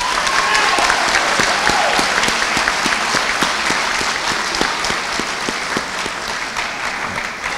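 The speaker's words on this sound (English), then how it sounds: "you'd give these guys a round of applause" Steady audience applause fills a school awards ceremony, many hands clapping together at an even level for several seconds, with some faint voices underneath.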